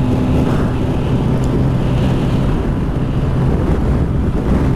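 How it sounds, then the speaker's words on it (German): Strong gusting wind roars steadily across the microphone during a motorcycle ride over a mountain pass in Andorra's Pyrenees, a loud continuous rumble with engine and road noise blended underneath and no talk. "Und hier weht auch ordentlich Wind."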